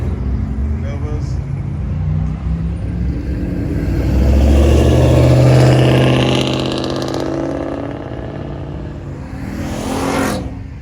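A Plymouth Superbird muscle car rumbles past at a car cruise, its engine swelling louder mid-clip and then fading, with a crowd's chatter and other traffic underneath.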